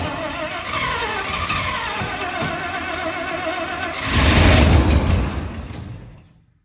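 A 1967 IH Loadstar 1600 truck under overhaul cranks on its starter with a rhythmic churning, then catches and fires into a louder rough burst of engine noise before cutting off abruptly.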